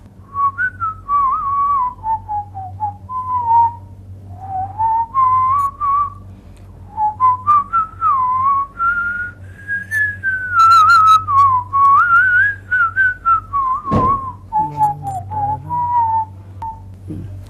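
A whistled rendition of a song performed on a TV programme: one clear, melodic whistle carries the tune continuously through the whole stretch over a low steady hum, with no talking.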